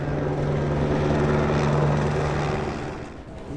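A police helicopter flies over a Los Angeles street at night, its rotor throbbing in a loud, steady drone that eases slightly near the end.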